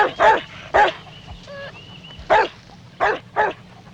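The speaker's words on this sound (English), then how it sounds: "Silly dog, there's nobody there." A dog barks in a series of sharp, loud, close barks on a farm, about five barks in irregular rhythm with short pauses between, and a faint high whine or whimper in the middle; no one speaks.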